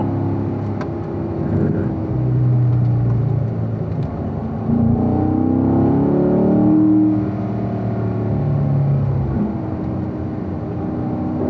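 A car lapping Spring Mountain Raceway, heard from inside as a steady engine drone with rising and falling pitch as the throttle comes on and off, loud and continuous.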